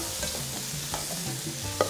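Vegetables hit a pot of onions and spices and sizzle steadily while a spoon stirs them in, with scraping strokes and a sharp clink near the end and no voices.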